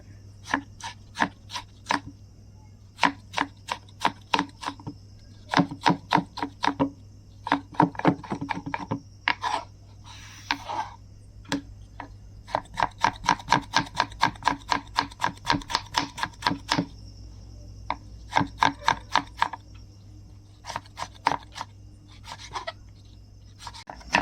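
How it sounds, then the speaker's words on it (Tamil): Tomatoes being finely chopped with a knife on a board for kothu parotta, rapid bursts of crisp close taps in uneven runs with short pauses between, no talking. "தக்காளியும் பொடிசாக கட் பண்ணிக்கோங்க."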